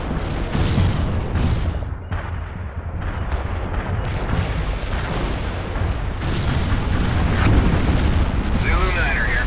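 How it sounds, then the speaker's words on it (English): A heavy artillery barrage pounds a battlefield in the strategy game World in Conflict, with repeated deep booms and blasts rolling continuously for several seconds, loud and close, mixed with rumbling debris. "Heavy artillery barrage inbound."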